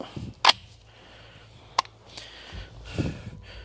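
A sharp metallic clack followed by a second lighter click as a round is chambered in a hunting rifle, close by, with quiet outdoor background and faint breathing.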